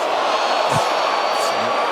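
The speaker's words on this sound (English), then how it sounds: "Crowd reacts." A boxing crowd at a charity Guns 'N Hoses bout between police and firefighters reacts to a punch, a broad roar of cheering and whoops from a large arena audience, steady and loud with voices mixed in.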